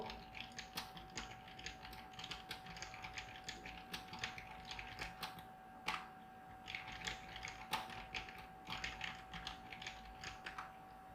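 Quiet computer keyboard typing at close range, irregular bursts of light key clicks with short pauses between words, alone over a faint steady hum.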